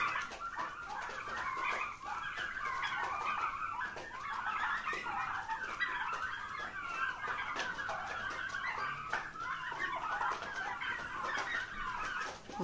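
Turkeys feeding on paddy in a farm shed, a continuous chorus of clucking and chattering fowl calls close by, steady throughout with no talking.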